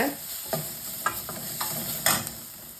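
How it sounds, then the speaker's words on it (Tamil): Onions and tomatoes sautéing for idly sambar, with a soft steady sizzle and a few sharp scrapes of a spoon stirring the pan at irregular intervals, close by and alone. "இப்போ வெங்காயமும் தக்காளியும் வதங்கிடுச்சு"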